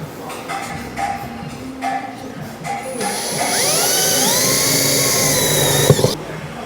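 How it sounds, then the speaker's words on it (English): A power drill bores a hole into a marked centre point while fitting equipment to a recovery truck, a sustained whining drone running about three seconds after some brief handling clatter, ending with a sharp knock. "So what I'm going to do is quickly drill a hole."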